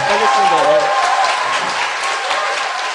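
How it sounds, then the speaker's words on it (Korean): Applause for a returning lawmaker on a Korean political talk show, steady broadband clapping from a studio audience lasting the whole stretch, with voices and a shout overlapping near the start. "큰일하고 돌아오신 의원님께 박수 부탁드립니다"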